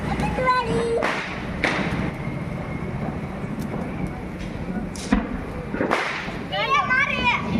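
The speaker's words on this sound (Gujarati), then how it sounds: "આ બધાય ભાઈ ફટાકડા ફોડે છે" Diwali firecrackers burst at night outside a Gujarati family home, sharp loud cracks at roughly one-second intervals over steady background noise, with a whistling rocket-like trill near the end and people's voices faintly in the mix.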